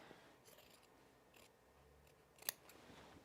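Quiet, close scissor snips cutting into fabric while sewing a jacket, a few sparse crisp cuts with a sharper snip near the end.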